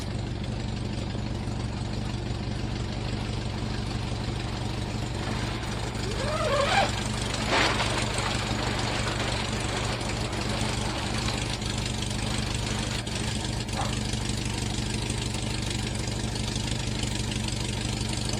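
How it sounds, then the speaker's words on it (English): A VW Fastback engine idles steadily just after a cold start on a snowy day, a low continuous rumble with an even mechanical chatter, close by and alone apart from a couple of brief faint knocks. "That was a very, very easy cold start."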